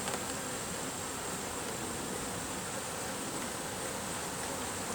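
Honey bees from a rescued colony buzz in a dense, steady drone, agitated by clumsy handling of a hive frame of brood comb. The swarm sounds close and loud, with no pauses and no voices.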